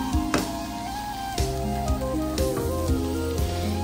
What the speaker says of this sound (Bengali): আমার চিংড়ি মাছটা অলরেডি ভাজা ভাজা হয়ে গেছে